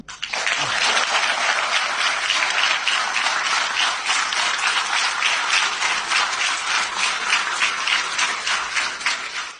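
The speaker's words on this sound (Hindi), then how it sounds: "लोगों ने इतनी ताली बजाई है" Sustained applause from a crowd at a political gathering, dense and steady clapping that fills nearly ten seconds at close range without a break.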